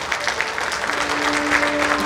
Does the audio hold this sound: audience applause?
yes